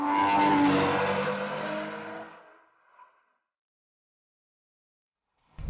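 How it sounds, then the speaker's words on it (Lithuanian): A car travelling at about 100 km/h roars loudly, then fades over a couple of seconds as it slows, followed by near silence. "Kitas automobilis tuo metu lekia 100 km/h greičiu ir taip pat turi sustoti tiksliai nustatytoje vietoje"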